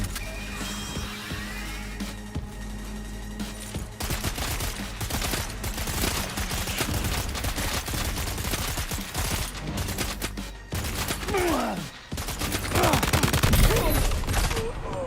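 Bandits shooting at cargo in Death Stranding 2 produce a sustained, loud clatter of rapid gunfire in dense bursts. Mechanical noise and a voice sit underneath, with heavier impacts near the end.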